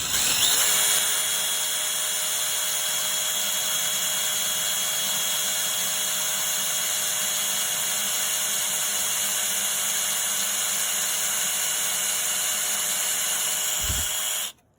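A power drill runs steadily through the fiberglass hood of a 1969 Oldsmobile Cutlass, a loud continuous whine with a hissy edge that holds for about fourteen seconds before cutting off abruptly.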